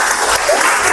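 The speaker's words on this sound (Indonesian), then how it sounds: "Kita kasih tepuk tangan." Loud, dense applause fills a classroom as a student group is invited forward to present, steady clapping throughout with no talk over it.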